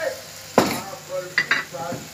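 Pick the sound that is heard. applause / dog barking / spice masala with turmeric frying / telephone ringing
spice masala with turmeric frying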